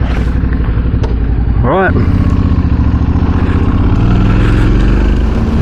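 Adventure motorcycles, a Yamaha T7 and a Royal Enfield Himalayan, ride a state park trail with a loud, steady, close engine drone throughout; a short spoken word breaks in partway through.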